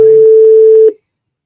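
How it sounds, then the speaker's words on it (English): A single steady telephone tone from a phone call being placed sounds loud and close, holds for almost a second and then cuts off into silence. "I need to make a quick phone call."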